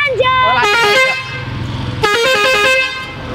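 A loud vehicle horn fitted with a basuri-style trumpet horn module sounds two bright, tuneful bursts whose pitch swoops and steps up and down, played close with no talk.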